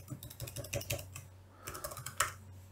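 Close computer keyboard typing while entering text into a ListBox program, bursts of sharp clicks with a brief pause mid-clip and a final louder keystroke.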